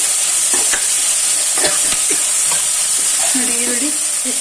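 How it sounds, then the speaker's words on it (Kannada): Turmeric being stirred into a frying mixture for tomato rice, with a steady sizzle throughout and scraping strokes of the spoon against the pan, close and fairly loud. "ಅರಿಶಿನ ಸೇರಿಸ್ಕೊಂಡು ನೀಟಾಗಿ ಮಿಕ್ಸ್ ಮಾಡಿ"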